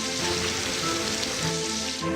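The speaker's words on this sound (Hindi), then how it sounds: "बारिश का हाल," Steady rain pours onto a surface as a dense, even hiss with a faint patter, continuous for about two seconds with no voices.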